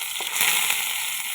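Curry leaves dropped into hot coconut oil with small onions, seasoning a red fish curry, giving a loud, steady sizzle with a few crackles throughout.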